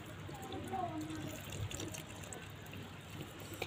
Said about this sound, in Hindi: देखिए पानी भी डाल दे रही हूँ।